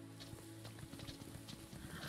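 Horse hooves clip-clop in the video game Aron's Adventure, a steady, quiet patter of footfalls under a low musical background.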